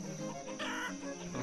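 Chickens cluck in the colonial-frontier city-builder game Banished, a short burst of hen calls over a steady game ambience.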